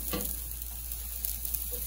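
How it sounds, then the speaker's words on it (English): Banana pancakes sizzling softly in a pan with a steady low fry, a short scrape near the start as spatulas slide under to flip them, then light taps later on, close and fairly quiet. "So we're just gonna delicately flip these over."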